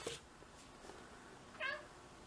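An indoor house cat meows near a cardboard box: a short meow at the start and a clearer, rising meow a moment later, with quiet room tone between.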